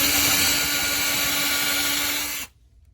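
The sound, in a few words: power drill drilling through metal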